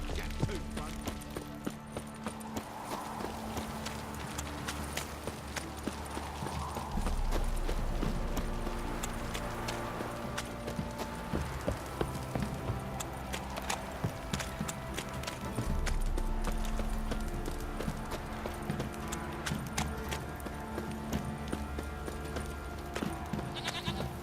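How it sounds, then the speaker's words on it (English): Horse hooves clip-clop steadily in The Witcher 3, a rhythmic trot of hoof strikes set among ambient game sound and background music, with sheep or goat bleats and character voices now and then. "Time to water the horses."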